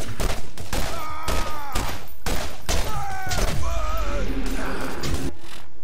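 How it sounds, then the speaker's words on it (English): Gunfire and a grenade blast in the video game Borderlands, a dense run of loud close shots and booms with a grenade explosion among them, with game voices in the mix. "Oh, that's a grenade."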